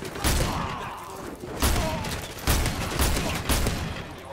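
Gunfire in Modern Warfare 2 Remastered: dense, loud bursts of automatic fire and thudding shots in rapid fusillades, with brief lulls between volleys.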